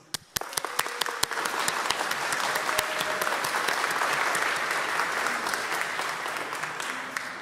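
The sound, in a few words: audience applause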